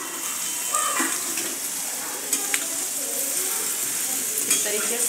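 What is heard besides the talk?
okra frying in spice masala in a kadhai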